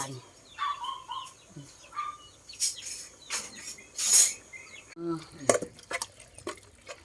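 Minced pork for larb stir-fried in a pan, with intermittent spatula scrapes and clinks against the pan, close by, with birds calling and a voice speaking in the background.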